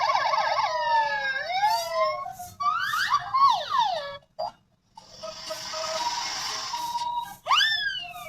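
A white ambulance's siren blares up close, moving from rapid warbling sweeps to a sustained tone. It drops out briefly, then rises in a sharp wail.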